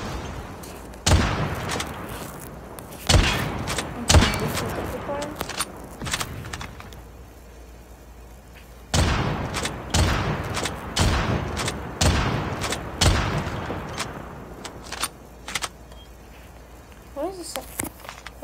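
Marksman rifle fire in Call of Duty Mobile: sharp, loud shots ring out in short bursts and pairs with game clatter and footsteps between them, a voice talking over much of the action.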